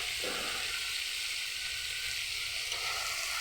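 Soyabean chunks frying with garam masala in a pan give a steady, loud, close sizzle and hiss throughout, with a faint stir near the start.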